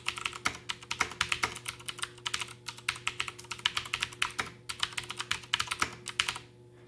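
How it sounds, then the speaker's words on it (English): Fast, hard typing on a Gamdius Hermes Lite mechanical keyboard with light, Cherry MX Red-like switches, keys bottoming out in a dense run of sharp clacks that stops abruptly near the end. "And here, typing aggressively, bottoming out."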